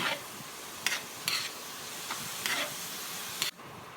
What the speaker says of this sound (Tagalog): na-fried na ng kaunti ang ating pork